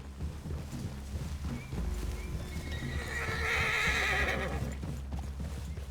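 A horse neighs and snorts close by amid hoof clops and a low rumble in Red Dead Redemption 2, with a whinny rising clearly near the end.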